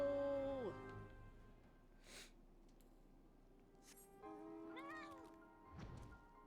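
A cat in the online role-playing game Final Fantasy XIV gives a couple of soft meows over a quiet game background, with faint whooshing effects between them.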